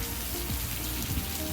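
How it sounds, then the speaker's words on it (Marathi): Rain falls steadily on a surface near the coast, a constant dense patter and splash that runs through the short stretch with no voices. "पाऊस चालू आहे"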